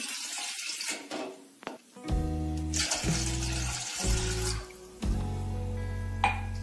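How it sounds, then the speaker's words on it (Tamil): Water pours into a vessel in bursts, each pour a gurgling, rising fill tone, with short pauses between them, close and moderately loud with no speech. "ஒரு பாத்திரத்தில் வந்து இந்த மாதிரி ரெண்டு கிளாஸ் தண்ணி வந்து நம்ம எடுத்துக்கிறோம்"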